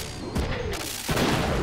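Shotgun blasts in the video game Front Mission 3, two loud close booms about three-quarters of a second apart, each with a broad crash and a short decay.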